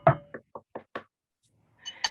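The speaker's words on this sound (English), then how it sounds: "If you have something to knock on, now is the time to knock on it." Several people knocking on surfaces together after a storyteller's cue, a loose cluster of five sharp raps in quick succession, then a pause and a few scattered later knocks.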